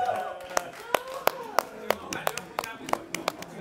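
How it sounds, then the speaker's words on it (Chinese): Scattered hand claps from a few people on a television variety show, a dozen or so sharp, uneven claps over a few seconds that ring out above people talking. "掌声送给柯勤哥，谢谢。"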